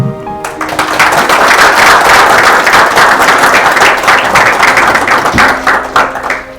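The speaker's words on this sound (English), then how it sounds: "give a warm round of applause to the Vice Chancellor, Professor Fred Binka." An audience at a university citation ceremony in Ghana breaks into loud, sustained clapping after a brief pause, dense and close, then thins toward the end with a few stray taps.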